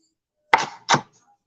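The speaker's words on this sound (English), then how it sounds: "I'm chopping up all the peppers" A knife chops peppers on a board, two close, sharp thunks about half a second apart, then quiet.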